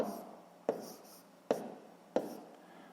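Pen or pencil writing down the answer to a sixth-grade math fraction exercise, heard as a quiet, close scratching broken by four sharp tap-like strokes at roughly even intervals, with no voices.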